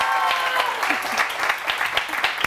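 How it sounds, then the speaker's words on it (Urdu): Studio audience applause on a Pakistani morning TV show, a dense sustained clatter of many hands clapping close, with a host's voice over it. "ایک دفعہ پھر تالیاں ہو جائیں اپنی آڈینس کے لیے"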